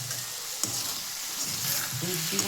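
Ash gourd ghonto with rice and panch phoron cooks in a pan as milk goes in, giving a close, steady sizzle with a few stirring clicks and brief soft voice-like tones near the end.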